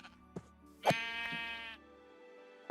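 A Minecraft sheep gives one clear, fairly close bleat, a short wavering cry set apart by faint game sounds before and after.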